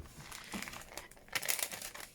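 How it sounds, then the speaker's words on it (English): A vellum envelope being picked up and handled, giving soft, close crinkling and rustling with a few sharper crackles, quiet and alone. "Just going to grab a vellum envelope."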